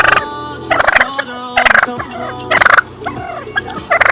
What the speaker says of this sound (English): you're a good turkey and you know it